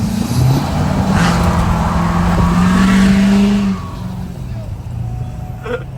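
A drift car pulls up in a pit lane, its engine droning loud and close, pitch rising then dropping as it rolls in and settles to a lower rumble, with other noise around it.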